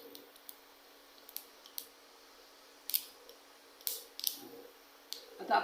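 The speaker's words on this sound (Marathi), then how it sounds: "आता आपली मोहरी तडतडते" Mustard seeds spluttering in hot oil in a pan while cooking a Maharashtrian colocasia leaf dish, heard as sparse sharp pops and crackles scattered across a quiet background, close and fairly faint.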